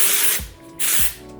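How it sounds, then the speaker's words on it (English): Two short hissing bursts of hair spray from an aerosol can, misted onto wavy hair, each about a third of a second, close and loud with brief pauses between. "and just kind of spray the waves"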